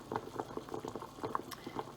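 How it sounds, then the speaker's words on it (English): A mixture boils rapidly in a pot on the stovetop, with dense, steady bubbling and popping at close range and no talking. "Got kind of a rapid boiling going on here."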